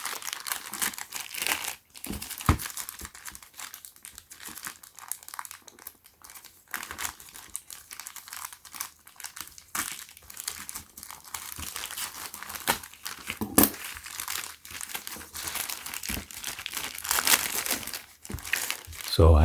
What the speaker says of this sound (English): So let's go ahead and unbox this.